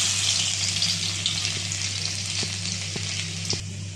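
Crushed unpeeled garlic cloves sizzle and fry steadily in hot oil with spices for masala bhindi, a loud, continuous close crackle with a few light stirring taps near the end and no talk.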